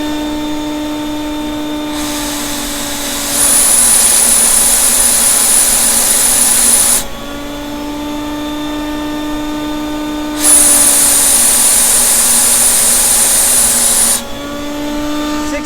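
A Titan HVLP paint sprayer turbine runs on its low setting with a steady, close whine and airy rush, swelling louder for two stretches of several seconds before settling back.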